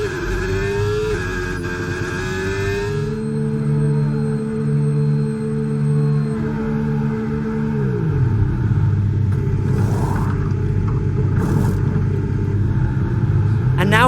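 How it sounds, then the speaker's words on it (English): Formula 1 cars in a racing video game dive into the pits, engines humming steadily and a tone sweeping down as they slow, with a commentator talking over the continuous mechanical rumble. "A whole train of cars is diving into the pits for their second stops."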